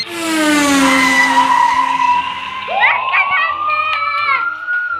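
Toy cars race on a big track while children shout and cheer loudly, with a whining, rising tonal sweep cutting in partway through over the excited voices.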